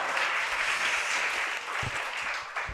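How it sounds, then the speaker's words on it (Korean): Audience clapping at a university quiz concert lecture in a hall, a dense sustained wash of applause from many hands filling the whole stretch, loud and even with no speech over it. "그래 박수 치세요."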